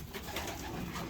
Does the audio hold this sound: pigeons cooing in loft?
yes